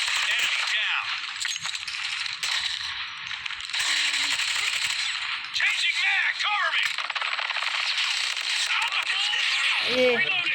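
Gunfire in a fast, tough Call of Duty fight with many enemies, with sharp shots and rattling bursts coming and going under a continuous game soundscape while a player talks over it.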